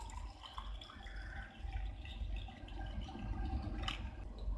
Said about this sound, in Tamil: இப்போ ஒரு லாங் கிளாஸ் எடுத்துக்கலாம். அதில் வந்துட்டு நம்மளோட ஜூஸை ஊற்றிடலாம்.